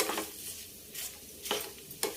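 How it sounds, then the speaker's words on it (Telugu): Tempering spices sizzle softly in hot oil on a low flame, with a gentle continuous fry and a few brief stirring scrapes of a spoon against the pan, quiet and close. "సిమ్లో పెట్టి తాలింపు వేసుకోవాలి."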